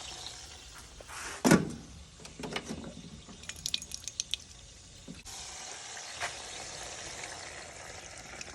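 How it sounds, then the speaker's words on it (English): Water poured into a hot pan of seared meat crackles and spatters, with a loud burst early on, then scattered drips and bubbling, settling into a steady low sizzle. "we're gonna go ahead and add some water here"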